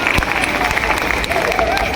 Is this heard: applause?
yes